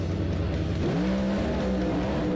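An Aeroflow Outlaw nitro funny car at Meremere Dragway in New Zealand, struggling with its setup, gives a steady engine drone that climbs into a rising tonal whine partway through, moderately loud with no one talking.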